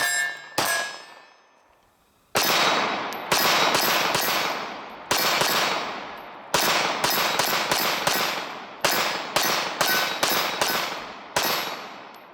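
A lightweight pistol, apparently a Glock, fires a string of sharp gunshots: one early shot, then a pause, then about a dozen rapid cracks in uneven bursts with short ringing decays, close and loud.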